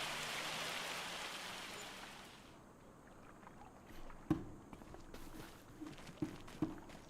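Steady rain hiss in Farming Simulator 25 weather, a broad wash that fades partway through, followed by scattered sharp knocks and taps like hail hitting surfaces.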